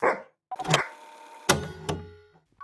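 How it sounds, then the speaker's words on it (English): Within the video game Alt-Frequencies, a dog gives a few separate sharp barks with short gaps between them, mixed into a game soundtrack with a faint sustained tone underneath. "Bark all you want."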